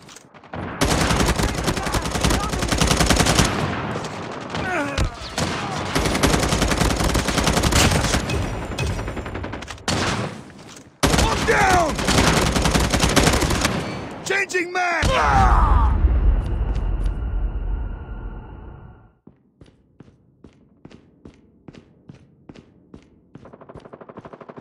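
Rapid automatic gunfire from Call of Duty Mobile multiplayer, loud and dense bursts for about fifteen seconds with brief gaps, then fading to faint scattered shots and rattles.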